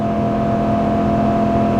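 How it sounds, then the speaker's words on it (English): A Nissan Titan pickup's gas engine drones loud and steady under load while towing about 9,000 pounds up a steep grade, a constant close-up hum with no pauses. "that's the negative about a gas engine, guys. Like, it's just loud."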